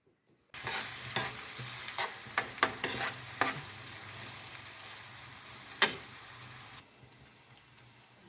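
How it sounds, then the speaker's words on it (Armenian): Onion frying in a pan, a soft continuous sizzle broken by a series of sharp stirring clicks and scrapes, one louder knock near the end, with no one speaking. "թավայի մեջ սոխն ա տապակվում"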